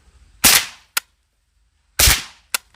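Galil 7.62x39 rifle fitted with a Huxwrks Ventum suppressor, two sharp loud shots about a second and a half apart, each followed by a short metallic echo or clank.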